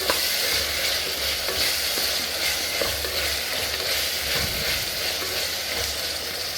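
Chopped vegetables fry and get stirred in a pan for vegetable pulao, a loud steady sizzle close up with repeated scraping stirs and no talking.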